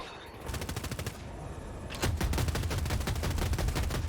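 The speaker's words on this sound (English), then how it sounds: "I'm just testing the range on this gun" Rapid automatic fire from a vehicle-mounted gun in the video game Battlefield 2042, a dense run of sharp repeated shots that grows louder and heavier about halfway through.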